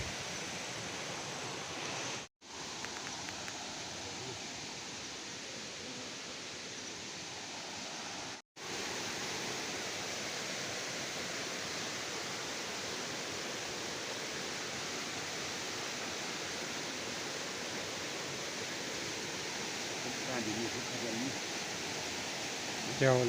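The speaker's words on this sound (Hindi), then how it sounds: "पानी देखिए आप इस गधेरे में कितना ज़्यादा है आजकल बरसात के कारण" A rain-swollen mountain stream in a hillside gully rushes steadily for the whole stretch, a broad, continuous watery roar with no pauses beyond two brief dropouts.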